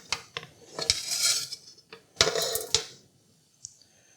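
A metal spoon scraping and clinking against a pan and plate while extra sauce is served over a chicken stir fry, in short bursts of scraping with sharp taps and a faint final clink.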